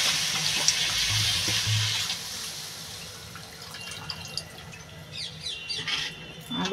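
Water poured for cooking, a soft running splash near the start that fades into faint kitchen clatter and clinks, with no talking.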